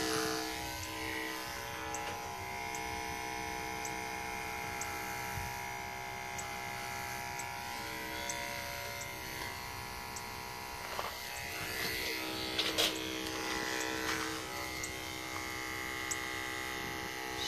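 Electric clippers shaving a show goat's tail, a steady close buzzing hum that runs throughout with slight changes in pitch as the blades move through the hair.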